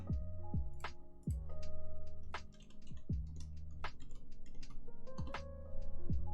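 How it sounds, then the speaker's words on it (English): Clacking keystrokes on an E7V1 mechanical keyboard fitted with Keebwerk Tacit switches, close and loud, an uneven stream of presses with heavier deep thocks from larger keys, no voices. "Let's go ahead and queue up some typing sounds here."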